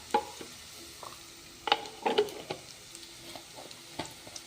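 Cumin seeds sizzle in hot oil in a pan, with a soft frying hiss broken by scraping stirs and light crackles, close and fairly quiet.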